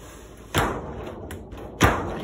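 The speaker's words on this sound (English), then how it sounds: "we have this shower door that closes" A shower door closes with two solid thuds, the second one louder and sharper like a slam, sounding close by in a quiet bathroom with no talking.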